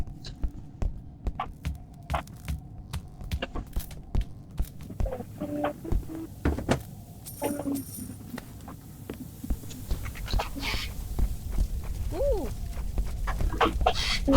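A chicken clucks in the Roblox game Deadly Delivery, brief clucks and chirps popping over a low throbbing hum and scattered clicks, with the background swelling louder toward the end.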